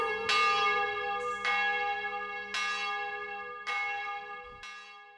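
Church bells peal in five loud, evenly spaced strikes, each ringing out and decaying into the next, with no voices present.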